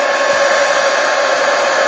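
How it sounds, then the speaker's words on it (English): Hair dryer running close by at a mixed media art table, a loud steady whooshing blow with a constant motor whine, alone with no talking. "So now I found my hair dryer."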